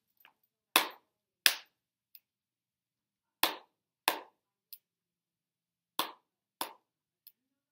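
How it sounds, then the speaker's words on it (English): Hands clap twice and then fingers snap once, repeated three times in a steady rhythmic pattern. The claps are crisp and sharp, and each snap is quieter and shorter, with silence between the groups. "Clap, clap, snap. Hands and fingers do it."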